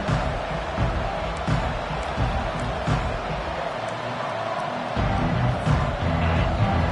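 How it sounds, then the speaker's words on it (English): Stadium crowd at a Clemson vs Georgia college football game, a steady loud roar of cheering voices that swells again near the end, with no speech over it. "This crowd, full throat, spreading the eardrums and letting them know it's going to be a long day."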